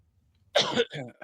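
A person coughs up close, two or three quick harsh bursts in a row following a short silence.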